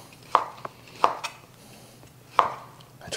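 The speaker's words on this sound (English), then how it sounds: "Andouille sausage. We're just going to cut these guys up." Andouille sausage is sliced with a knife on a cutting board: a few sharp, close thunks at uneven intervals, with quiet room tone between cuts and no talking.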